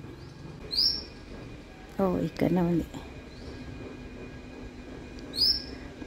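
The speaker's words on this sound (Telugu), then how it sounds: "చూడండి చిట్టిపిట్టలు ఎంత అల్లరి చేస్తున్నాయి" Small birds give brief high chirps, a couple of quick tweets near the start and again at the end, fairly faint and spaced apart, with a short bit of speech in between.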